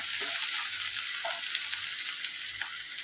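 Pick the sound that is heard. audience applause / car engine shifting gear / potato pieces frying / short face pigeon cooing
potato pieces frying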